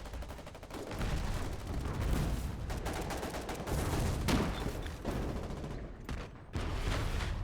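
Dense gunfire and artillery shelling in a Foxhole battle as Warden troops bombard an enemy base, loud overlapping bursts and booms rolling almost without pause, with a brief lull near the end.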